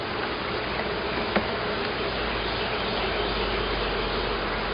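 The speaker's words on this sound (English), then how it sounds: "Feisty bees on the front." Feisty bees buzzing on a hive frame, a dense steady hum of many wings up close that holds at an even level throughout.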